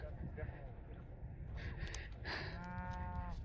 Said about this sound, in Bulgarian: едни крави, дето много ни се карат.